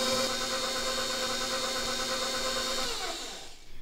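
An electric mixer runs on medium speed through flour and brown sugar, a continuous close motor whir with a rhythmic churning texture that slows and winds down near the end.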